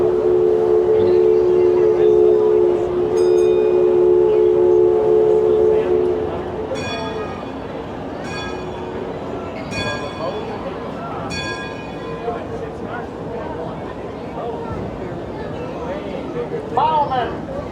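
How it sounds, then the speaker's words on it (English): A bell rings out in a few quick bursts at Disneyland, near the Haunted Mansion, after a long low horn-like tone fades, with crowd murmur and voices in the background. "They're ringing the bell."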